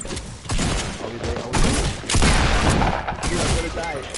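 Rapid bursts of gunfire ring out in a shooter video game, dense overlapping shots firing almost continuously while players talk over the action.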